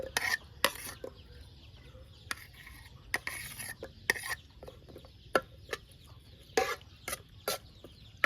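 A utensil stirs bamboo shoot and mushroom curry in a pot, giving sharp irregular scraping clinks against quiet background, close and intermittent, with a few faint voice sounds.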